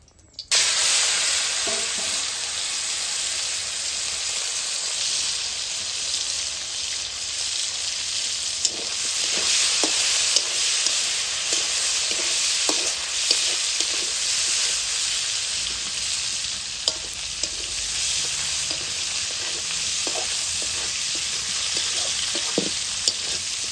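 Fish rubbed with turmeric and salt fries in hot oil in a kadai, a loud, steady sizzle and crackle lasting throughout, with occasional light taps and pops.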